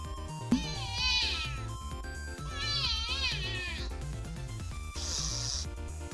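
A cat meow sound effect set off by a stream chat command plays three times in quick succession over a music bed, each meow clear and close.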